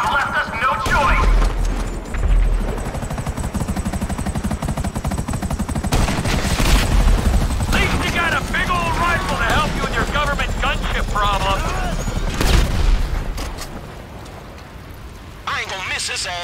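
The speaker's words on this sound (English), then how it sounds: "Tell the kid to stop shooting at us!" Gunfire in the GTA V video game during a shootout with a helicopter, loud bursts of automatic fire mixed with rotor noise and explosions, with voices talking over the dense action.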